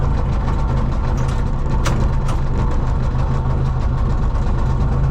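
A Lambro three-wheeler's engine idles loudly and steadily as the driver works through first gear and the reverse lever, a constant close mechanical rumble with no pauses.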